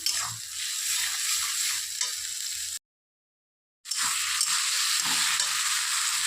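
Taro leaves (kochu shak) are stirred and fried in fish oil in a pan, making a bright, continuous sizzle with scraping stir strokes. The sound cuts out to silence for about a second midway, then resumes.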